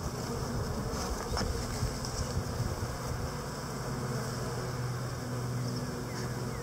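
Honey bees buzz steadily across a hive frame while they build comb, a close, continuous drone holding level from start to end with no break.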